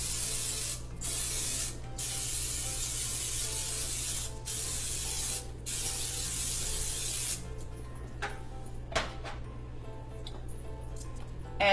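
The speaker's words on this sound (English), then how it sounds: "Just going to spray my crock." Several short hissing bursts of cooking spray into a crock pot, close by, followed by quieter clicks and rustling against a steady low hum.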